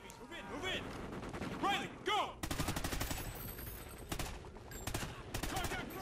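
Rapid automatic gunfire in the Call of Duty Ghosts campaign crackles in dense, loud bursts for several seconds, mixed with other battle effects and someone talking.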